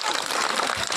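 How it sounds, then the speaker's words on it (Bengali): Children clap loudly together in a school classroom, a dense burst of applause lasting about a second. "একটা জোরে হাততালি দাও।"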